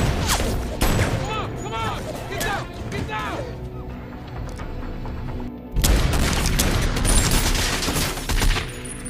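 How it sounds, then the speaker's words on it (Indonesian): Pistol gunfire in an action film, loud sharp bursts and booms erupting in the second half, with someone narrating over the scene beforehand. "Mike menembakkan pistolnya ke arah Burrell karena dia akan menembak Christy yang sedang berjalan"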